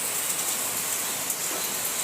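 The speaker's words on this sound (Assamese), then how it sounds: "আজি পুৰা বৰষুণ দি আছে এয়া বাহিৰত এয়া বৰষুণ আন্ধাৰ হৈছে" Steady rain falls outside a kitchen, a continuous even hiss with soft patter, moderately loud and without any voices.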